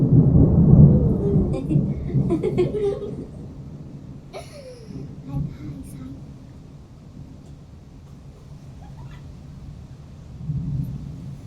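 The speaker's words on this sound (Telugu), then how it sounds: "చాలా పెద్ద పెద్ద ఉరుములు." Loud thunder during a storm, a heavy deep rumble that opens strongly and slowly dies away, with scattered faint sounds over a low background and a later softer rumble.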